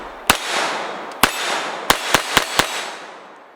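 Six sharp gunshots from a Walther P22 pistol at an outdoor range, spaced irregularly with a tight cluster near the end, each loud crack trailing into a brief echo.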